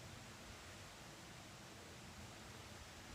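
A creek in Pennsylvania's Allegheny National Forest flows downhill, a faint, continuous broadband rush of water heard from a distance with no talking.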